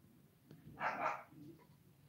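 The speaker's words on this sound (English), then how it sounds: "My dog's going off." A dog barks once or twice in a short burst from another room, moderately loud against a quiet background, with no talking over it.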